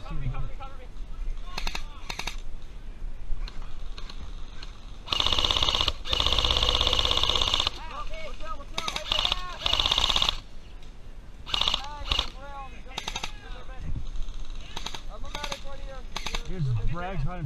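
Airsoft guns fire BBs in bursts of sharp, rapid cracks during an outdoor game, some shots near and loud, others farther off, with people shouting between volleys.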